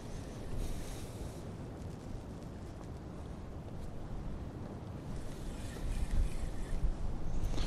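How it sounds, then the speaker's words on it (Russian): Steady wind roars and buffets the microphone over a wash of water while spin fishing, continuous and fairly loud, swelling stronger toward the end. "Ветер парусит."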